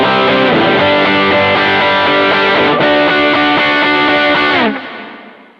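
An electric guitar with a subtle reverb, dialed in as a worship tone, rings out in sustained, layered chords that hold loud and steady, then the final chord cuts and the reverb tail fades away.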